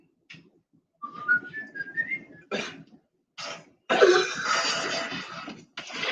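A person whistles a short rising and falling tune, close and fairly soft, followed by coughs and throat clearing in a quiet indoor space.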